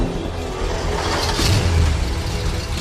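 A car engine driving away in the Transformers Prime cartoon, a steady mid-pitched motor hum with a brief rev swelling near the middle, heard alone without talk.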